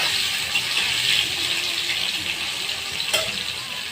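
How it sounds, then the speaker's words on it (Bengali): Potatoes frying in oil with cumin and bay leaves for a spicy colocasia dish, giving a steady close hiss and sizzle with a brief stir or clatter near the end. "আমি আলুটা লাল করে ভেজে নেব।"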